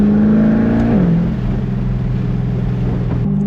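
A Chevrolet Corvette C8 fitted with a titanium exhaust holds a loud, steady rev that dips slightly and then settles into a sustained drone, heard up close with no voices.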